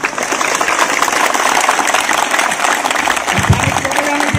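A crowd gives steady, dense applause at a speech, a loud continuous wash of clapping across the whole stretch with no break.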